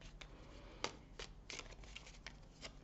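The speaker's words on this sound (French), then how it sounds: "je vais compléter et terminer ce tirage avec les 77 d'Alias Kay" Tarot cards being shuffled by hand, heard close and faint as a series of soft riffling flicks and taps at an uneven pace over a quiet room hum.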